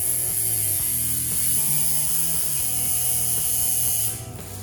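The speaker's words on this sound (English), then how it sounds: "This is my shader coil, so it shouldn't be too loud. It'll still be pretty loud." A coil shader tattoo machine running at 6 volts gives a loud, steady mechanical buzz with a sustained high whine, holding constant before dropping off near the end.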